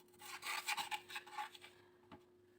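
A spoon stirs milk into cake batter in a bowl, giving soft, close scraping and swishing strokes in an uneven rhythm that fade to a single faint scrape.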